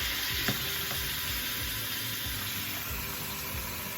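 Turkey neck sizzling in a hot pot on a stove at medium heat, a steady loud frying hiss that fills the whole stretch, with a faint tap near the start and no voices.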